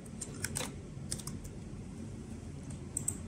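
Quiet keyboard typing while flight controller OSD options are set up for a Walksnail digital FPV system, with scattered light key clicks in short bursts against a faint hum and no talk.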